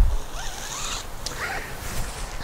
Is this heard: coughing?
no